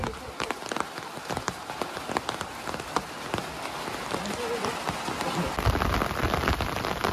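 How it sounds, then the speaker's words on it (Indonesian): Heavy rain pours steadily over a mountain village, a dense close hiss of drops hitting surfaces with sharper nearby splats and patters, unbroken for several seconds and with no talking. "Nah, ini hujan semakin mengguyur ini."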